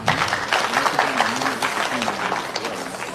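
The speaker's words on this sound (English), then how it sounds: "Give yourself a big round of applause." A convention audience in Canada applauds, dense, sustained clapping from a large crowd with a voice speaking over it.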